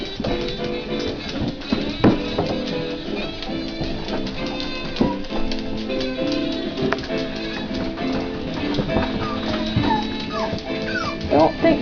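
Several dogs whimper, yip and bark in an indoor dog building where a cat is eating among them, a busy, overlapping stream of close canine noise with light tapping throughout.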